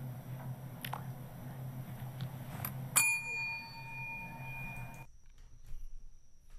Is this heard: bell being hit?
yes